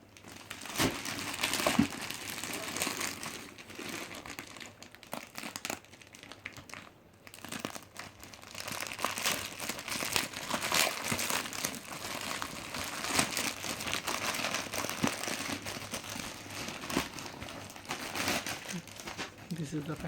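Packaging of a Samsung Gear VR being unwrapped, with close, continuous crinkling and crumpling of plastic and paper that rises and falls throughout, briefly dipping near the middle.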